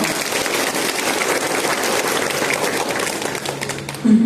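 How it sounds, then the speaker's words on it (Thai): A veterans' gathering in Ubon Ratchathani breaks into applause for a colonel, with steady crowd clapping that stays dense and even before tapering off at the very end. "ขอเสียงปรบมือ ให้ท่านด้วยค่ะ"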